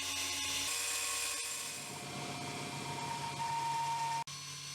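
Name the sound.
machining a mid drive eBike gearbox housing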